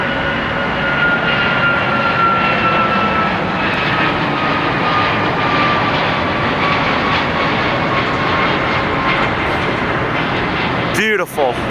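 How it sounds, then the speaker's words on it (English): A roaring Alaska Airlines jet passes while planes are watched near LAX, its loud sustained whine-and-rumble steady throughout with a slowly falling tone, ending in a brief clatter. "here comes the rare livery with Alaska Airlines."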